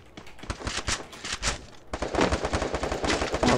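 Rapid automatic gunfire rings out in a Free Fire match. Dense bursts fire in quick succession, pause briefly near the two-second mark, then resume in another sustained rattle.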